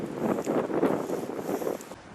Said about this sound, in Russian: Блин, ветер. С ветром, конечно, не повезло.